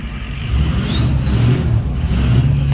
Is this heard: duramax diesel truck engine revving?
yes